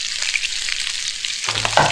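Food sizzles and fries steadily in a pan with a little oil in a cooking video game, a bright crackling hiss that swells slightly near the end.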